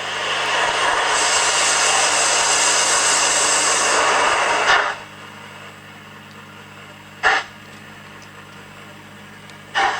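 A Hornby Mallard model locomotive fitted with sound gives a steady loud rushing chuff for several seconds, then drops to a quiet hum broken by two short scraping bursts, like the fireman's shovel.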